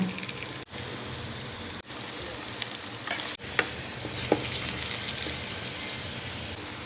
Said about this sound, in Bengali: আলুর মধ্যে দিলাম হলুদ আর লবণ দিয়া সুন্দর করে আলুটারে ভাজা নিব